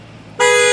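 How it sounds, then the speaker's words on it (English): A single short horn blast from a 2004 Lamborghini Murcielago, loud and close, lasting about a third of a second after a brief quiet moment. "Honk the horn, Mike."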